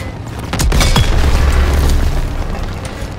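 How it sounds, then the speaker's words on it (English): A German Panzer tank blows up in the World War II shooter Call of Duty WW2, a single loud, deep boom that rumbles close by and then fades into a low roar. "Take out that Panzer tank now! Enemy tank destroyed!"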